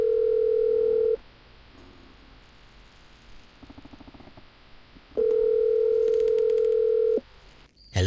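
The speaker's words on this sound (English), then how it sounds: "So let's listen into this little phone call real quick." A phone's steady dial tone from a call in the game Last Half of Darkness sounds loud and clear for about a second, pauses over faint static, then returns for two more seconds before cutting off.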